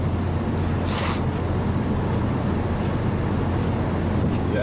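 A boat engine drones steadily, heard from the very back of the boat, a constant low rumble mixed with water and wind noise, with a brief hiss near the start.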